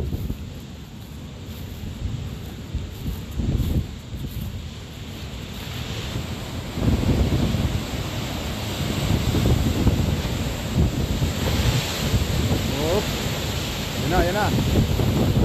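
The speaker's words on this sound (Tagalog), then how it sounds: "tingnan natin kung ano yung situation ng tubig dito, yung alon." Ocean waves wash in at Astro Park in Bermuda, a continuous surf rush under heavy wind buffeting the microphone, rising and falling in strength over several seconds.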